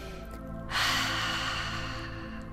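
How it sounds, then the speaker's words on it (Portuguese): A deep exhale through the mouth during a guided meditation for anxiety: after a brief quiet moment, one long, close, breathy rush of air begins and slowly tapers off, heard alone. "Inspire bem fundo e solte o ar pela boca"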